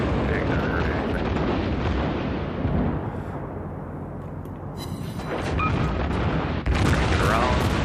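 Naval guns in World of Warships fire as heavy booms and rumbling blasts, loud and close, recurring across the clip with a voice talking over them.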